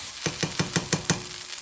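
Jalapeño and El Pato sauce cook in a pan for red rice, giving a steady sizzle broken by six evenly spaced, crisp bursts, as if stirred, close and moderately loud, with no talking.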